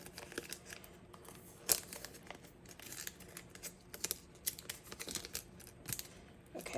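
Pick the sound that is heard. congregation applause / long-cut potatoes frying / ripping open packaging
ripping open packaging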